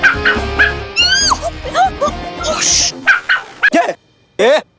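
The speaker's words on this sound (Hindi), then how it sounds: "किसका कुत्ता है? कहाँ से है ये?" A dog yaps and barks in short, sharp bursts in a lively household scene from a Hindi family sitcom, mixed in with overlapping voices and busy background sounds.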